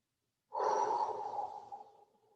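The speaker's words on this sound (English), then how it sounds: "Take a couple more breaths here." A single slow, deep exhale during a gentle Kripalu yoga session starts abruptly, flows out breathy and close, and fades gradually after about two seconds in a quiet room.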